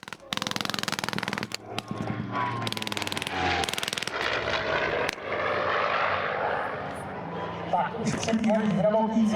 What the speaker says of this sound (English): ME-262 and this P-51D Mustang